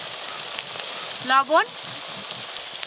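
Onion, garlic paste, ginger paste and ground chilli and turmeric frying in a pan for a mutton curry, a steady soft sizzle throughout, with a short voice briefly rising over it midway.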